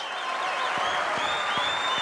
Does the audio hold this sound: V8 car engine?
no